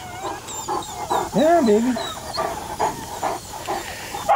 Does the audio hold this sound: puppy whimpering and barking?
yes